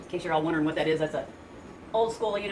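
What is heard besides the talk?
No everyday noise stands out behind the speech.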